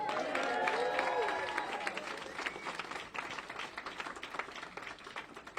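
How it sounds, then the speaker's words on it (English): A crowd at a political event applauds loudly, the clapping peaking early and then gradually thinning out over several seconds, with voices mixed in. "Give them another round of applause."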